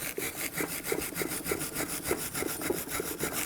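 Brisk back-and-forth wire brush strokes scrub the rear brake caliper bracket of a Scion xB where the brake pad clips sit. The scratchy, rasping sound repeats at a steady rhythm, close and fairly quiet.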